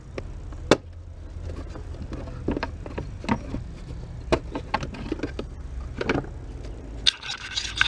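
Plastic clicks and scrapes from prying a clipped-in piece out of a Volkswagen Golf R engine intake, a string of sharp snaps and rattles close by over a low steady hum, with no talking.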